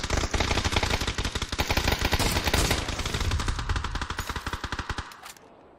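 Rapid automatic gunfire rattles loudly and almost continuously in a first-person shooter match, a dense stream of shots that cuts off abruptly near the end.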